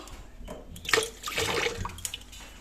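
White oil and mustard oil pouring into a vessel, a brief close liquid splash and trickle with faint background noise and no voices.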